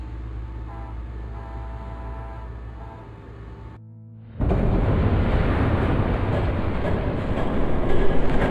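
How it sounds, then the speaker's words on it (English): A train in the Batman Telltale Series video game, a low rumble that drops out briefly before a loud, close wash of rolling wheel and carriage noise surges in and keeps building, no talking. "There's a train coming."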